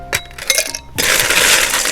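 Ice cubes clink into two cocktail glasses being filled for a Bloody Mary. A few separate, close, ringing taps come first, then a dense rattling pour of cubes fills the second half.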